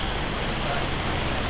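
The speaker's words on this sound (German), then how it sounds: "Und sehr schön jetzt hier der rituell einsetzende Regen, immer hier am Römerweg." Steady rain falling outdoors along a Roman road during a regional festival, a dense continuous hiss of drops on surfaces filling the whole moment evenly, with no voices.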